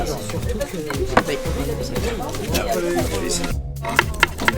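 A knife chops food finely on a board in rapid, uneven strokes, close and clear, while people talk over it in a kitchen cooking demonstration.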